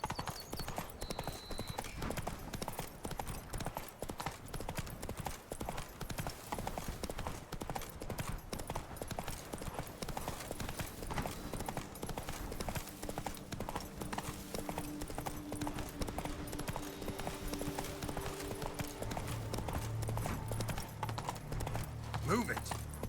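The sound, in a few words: horse galloping, from video game The Witcher 3: Blood and Wine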